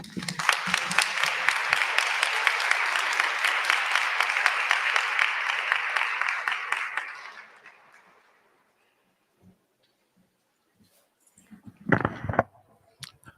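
A forum audience gives sustained applause for about seven seconds, full and close, then it fades into near silence before a short burst of handling noise.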